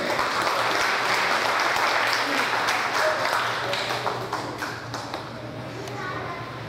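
An audience at a Korean community award ceremony marking Liberation Day in Atlanta applauds steadily, a dense wash of clapping from a crowd that holds for several seconds and then thins slightly near the end, with some faint voices mixed in.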